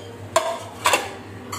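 Kitchen dishwashing produces three sharp clinks of pots, pans and utensils knocking together at irregular intervals over a quiet background hum.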